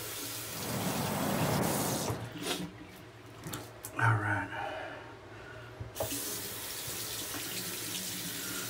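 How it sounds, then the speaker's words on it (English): Tap water runs and splashes in a sink while soap is rinsed off, first warm and then cold, with the flow surging, pausing and resuming, and a voice briefly speaking. "So just did my warm water, cold water rinse."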